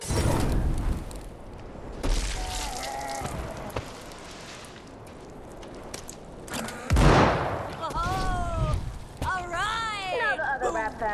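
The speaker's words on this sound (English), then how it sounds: "East side for the next explosions!" Explosions and gunfire in the video game Dead Island 2, with repeated bursts and one heavy boom mixed under excited talking and game chatter throughout.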